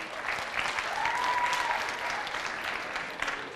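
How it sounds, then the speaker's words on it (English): Audience applause rings out continuously for a few seconds, a dense wash of clapping, steady and fairly loud, with no talking on top. "Round of applause for Linda."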